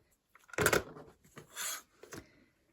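Fabric border strip ends being trimmed with scissors for a triangle star quilt: a close, crisp snipping burst followed by a softer rustle and a final short snip, no voices.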